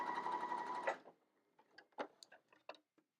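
A sewing machine stitching straight through fabric runs in a dense steady whir for about a second, then stops, followed by scattered quiet clicks and handling taps.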